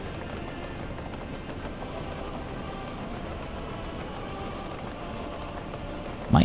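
A freight train running at speed in the Soviet-era city-building game Workers & Resources, a dense continuous rolling clatter and rumble held at an even level throughout.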